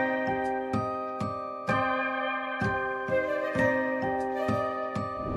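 High-pitched bell tones chime in a lilting pattern over sustained chords, with a soft flute-like melody weaving between them.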